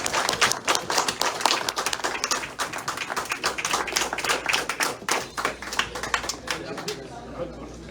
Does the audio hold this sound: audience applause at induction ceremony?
yes